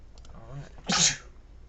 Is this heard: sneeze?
yes